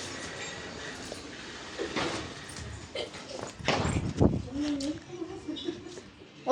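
An Indian train in a train simulator game rumbles and rolls, with clunks and a rising rattle as it comes to a stop; a voice talks over it.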